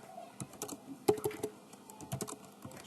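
Quick, light keystrokes tap on a computer keyboard in an irregular patter, fairly faint and close, with no voices.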